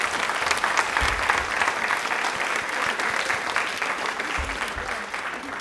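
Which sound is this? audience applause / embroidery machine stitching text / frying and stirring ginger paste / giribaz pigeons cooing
audience applause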